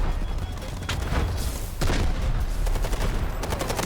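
Gunfire and explosions in the shooter game Delta Force: Hawk Ops, dense loud bursts of shots with a heavy boom near the middle, continuing as a steady rattle of fire to the end.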